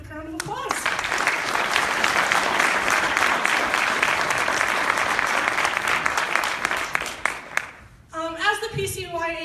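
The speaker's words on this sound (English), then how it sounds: "So can we all give them a quick round of applause?" Audience applause at a debate event rises quickly and holds as a dense, even wash of clapping for about seven seconds, then stops abruptly before a speaker starts talking.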